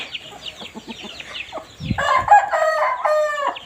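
A rooster crows loudly and close by, a long strained call following some softer clucking and scratching noises.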